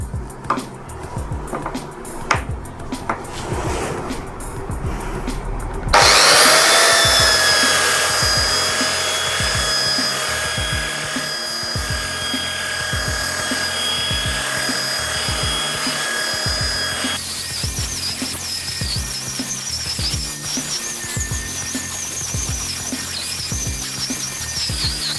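A Humhon belt sander with its dust bag fitted grinds against wood, starting abruptly and running loud and steady close up, its pitch shifting as pressure on the workpiece changes partway through.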